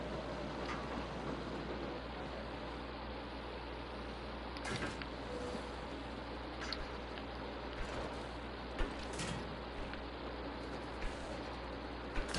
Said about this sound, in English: Ah, the sound of the rain.